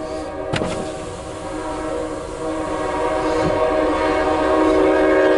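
A Norfolk Southern NS 227 intermodal freight train rolls past with a steady rumbling roar that slowly builds, and a loud sustained horn blast sounds near the start.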